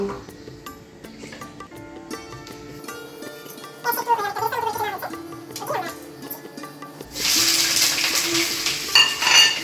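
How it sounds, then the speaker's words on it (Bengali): Onions frying in mustard oil in a home kitchen pan, background music over a low sizzle, then a loud bright hiss as they hit the hot oil near the end, with clattering stirring. "এখন তেলে আমি একটু সরিষার তেল দিচ্ছি পেঁয়াজটাকে ভেজে নিচ্ছি"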